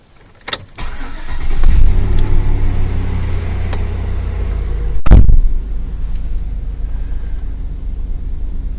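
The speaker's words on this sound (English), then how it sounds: "we're going to go running it all the way, engine fully on, for 1 to 2 minutes" A GMC Yukon's engine cranks and catches, then settles into a steady, deep idle rumble that continues close and loud, with a brief louder burst midway.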